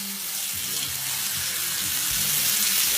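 Marinated steak, about eight ounces, sears in a hot pan with a steady broadband sizzle that holds close and even throughout, with no voice over it.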